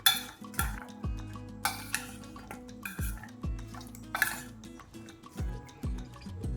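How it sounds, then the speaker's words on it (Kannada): A spoon stirs a mixed fruit salad with apple in a bowl, giving repeated metallic clinks and scrapes in an uneven rhythm, close and clear with no talking. "ಇದನ್ನೆಲ್ಲ ಒಂದು ಸಲ ಮಿಕ್ಸ್ ಮಾಡೋಣ."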